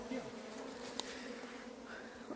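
Many honeybees swarm around the outside of a backyard hive, making a faint, steady, continuous buzzing drone with no pause.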